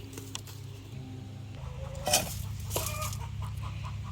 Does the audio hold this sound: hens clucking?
yes